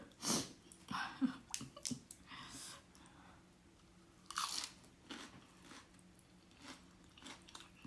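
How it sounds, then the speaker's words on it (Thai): Crunchy food is chewed with crisp crackling bites and clicky mouth noises, irregular and close up, fairly quiet overall. "กินเสียงดังขออภัยเด้อ"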